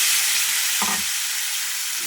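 Potatoes sizzling in hot oil with cumin seeds, a loud, dense, unbroken hiss with one short clatter as the pieces are stirred.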